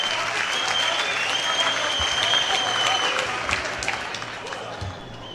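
Audience clapping for ANC National Executive Committee members at a Peter Mokaba memorial lecture in Mogwase: dense, sustained applause that fills the room at a steady level, easing slightly toward the end.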